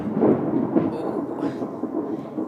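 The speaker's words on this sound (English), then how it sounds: "As you can hear, we got a bit of a storm at the moment." Thunder from a passing storm rolls as a continuous low rumble, moderately loud and somewhat distant, swelling and fading slightly without a distinct crack.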